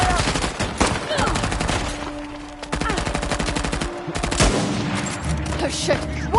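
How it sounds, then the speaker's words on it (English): Sustained gunfire in Uncharted: The Lost Legacy, a near, loud, rapid automatic rattle of overlapping shots with brief gaps and occasional heavier reports, mixed with shouting voices. "Open fire!"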